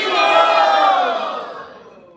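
A crowd at a spiritual festival gathering lets out a single loud, sustained group shout in unison, swelling at once and then tapering off over about two seconds.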